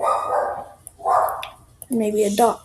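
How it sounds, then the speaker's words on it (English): A pet dog barks a few times at home, the short barks spread across the moment and partly overlapping a voice as he talks. "that is my dog barking"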